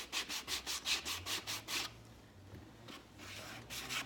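A shoe sole sanded by hand gives about eight quick, even rasping strokes close up, then a quieter, slower rub of abrasive on the sole.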